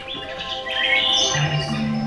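A nightingale sings alone in a short burst of bright, varied warbling notes and trills, fairly close and clear, with no talking over it.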